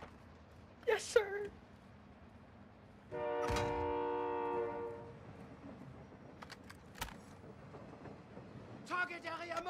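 In a first-person shooter game, a train sounds a long sustained horn blast midway, surrounded by sharp bursts of gunfire and clatter, with voices speaking in places.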